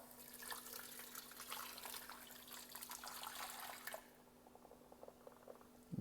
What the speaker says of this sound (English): I'm gonna go ahead and add 2 cups of hot water.